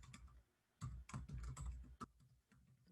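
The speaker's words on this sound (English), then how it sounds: "I hope I'm typing my passwords right." Quiet keyboard typing: irregular bursts of clicking keystrokes with brief pauses between them, close by.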